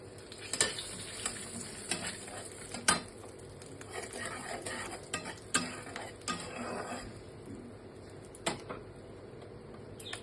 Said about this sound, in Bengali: এটা দিয়ে দিচ্ছি আমি ফোড়ন